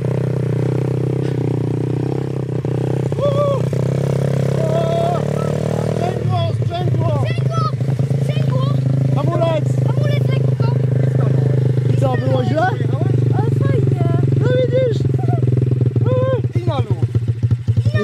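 A motorcycle engine idles and then is throttled, its pitch rising and wavering, while voices talk over the steady motor noise.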